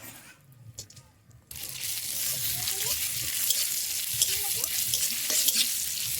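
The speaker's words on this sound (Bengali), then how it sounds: "এবার আমি কাজু আর কিশমিশটা ঘিয়েতে ভেজে নেব" Cashews and raisins frying in hot ghee in a wok: after a quieter start, a loud, steady hiss and crackle takes over and continues, with occasional stirring scrapes.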